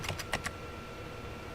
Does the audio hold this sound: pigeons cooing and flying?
no